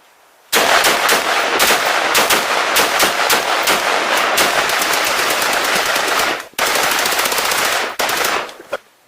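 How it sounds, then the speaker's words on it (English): Rifles emptying 30-round magazines into a cabinetry barrier at a shooting range, loud rapid continuous gunfire that runs for several seconds, breaks briefly, then resumes and ends with a few final shots. "We're going to empty our 30 round magazines to see how much this thing can withstand"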